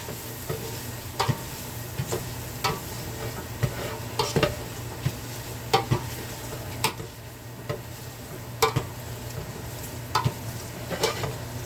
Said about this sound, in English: Put my asparagus and mushrooms in there.